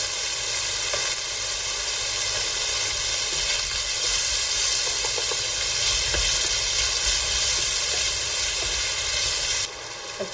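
Green chilies and curry leaves frying in a pan give off a loud, steady sizzle and hiss, with occasional stirring scrapes and no voices.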